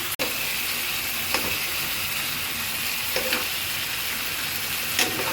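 Fish fried down with spices and onions sizzles and hisses steadily in a pan, with a few light stirring scrapes spaced out over the dense, even frying noise.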